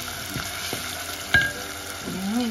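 Mung beans and tomatoes sizzle steadily in a hot spice tempering in a pan, a constant close frying hiss with a few soft stirring clicks and scrapes.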